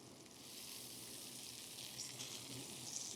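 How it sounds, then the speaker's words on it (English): Wagyu beef sears in a lightly oiled pan, giving a steady, close hiss and crackle of frying fat that holds throughout with no voices. "So nice sear on all sides."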